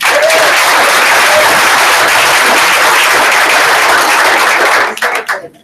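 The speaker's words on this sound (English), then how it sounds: "We give her a round of applause." Loud, close round of applause from a sales meeting crowd, dense clapping held for several seconds before tapering quickly into a few scattered claps at the end.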